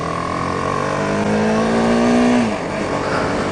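A 2018 BMW G310R motorcycle engine during a test ride, a steady loud drone with a rising tone that climbs, then eases off toward the end.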